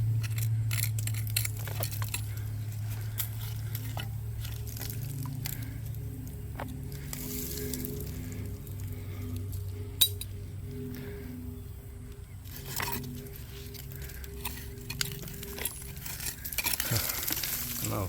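Old glass clinks and scrapes as someone digs through dump debris near an abandoned railroad, giving scattered sharp clinks and gritty rustles at close range, fairly quiet and with no talk.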